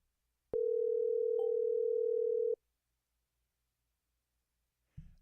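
A single steady telephone tone sounds for about two seconds while a call is placed to a coach, then cuts off into silence before a brief low thump at the end.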